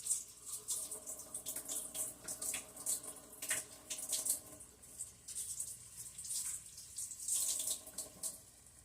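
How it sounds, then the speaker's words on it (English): Water runs from a kitchen tap into the sink while hands are washed, a steady hissing stream with uneven splashes and small shifts in flow throughout, with no talk. "I just had to take the bowl to the sink and wash my hands."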